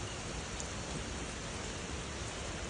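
Steady rain falls in Canada, a dense, even hiss of drops on surfaces that holds at one level throughout with no pauses and no voices.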